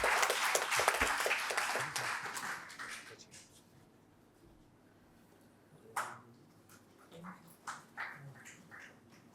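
At an award ceremony in the Gujarat Vishwakosh Bhavan, a hall audience gives dense applause for about three seconds, which then fades into scattered quieter claps and small noises.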